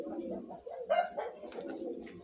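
A domestic pigeon carrying the reduced colour gene, a T-pattern bird, coos in soft low throaty rolls close by, with a short sharp noise at the very end.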